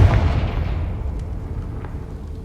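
Confringo blasting spell explosion in the video game Hogwarts Legacy: a loud, close boom at the start that decays into a fading low rumble over a couple of seconds, with no talk.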